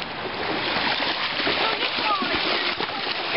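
A horse wades through flooded river water, with continuous splashing and sloshing of churned water throughout, fairly close and busy, with occasional faint voices in the background.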